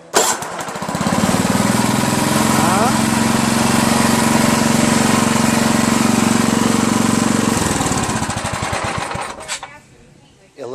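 A Tecumseh 7HP engine on a Jacobsen Imperial 26 snowblower cranks on its electric starter, then runs with a loud steady droning rattle close by for several seconds before cutting off and winding down.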